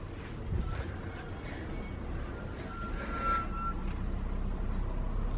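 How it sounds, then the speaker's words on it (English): A garbage truck passes on a street at about 5 a.m., a steady low engine rumble with a faint high whine, heard from indoors, no talking. "It's a garbage truck."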